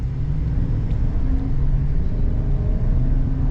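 A 6.2-liter V8 in a 2022 GMC Sierra AT4X pickup gives a steady, muffled low engine drone heard from inside the well-insulated cabin, holding even without sharp revs.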